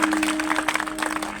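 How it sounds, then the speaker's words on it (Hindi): A church congregation at a Sunday meeting claps loudly together, a dense, continuous burst of many hands close by with an uneven, rippling rhythm and little else audible. "अगर आए तो जोरदार तालियां बजाएंगे, जोर से जोर से जोर से जोर से"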